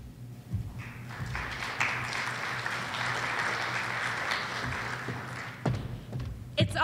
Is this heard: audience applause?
yes